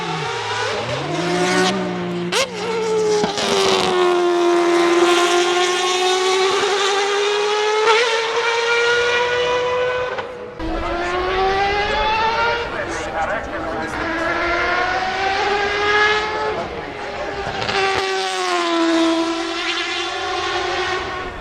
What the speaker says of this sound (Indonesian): apalagi dengan suara mesin yang luar biasa